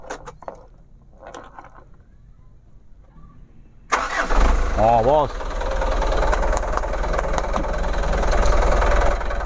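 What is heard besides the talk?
truck diesel engine starting and idling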